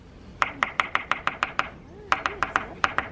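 Frozen lake ice near Stockholm, Sweden, pressed underfoot, answers with about a dozen sharp, ringing cracks and twangs at a steady rhythm, a short pause midway, then more, close and clear.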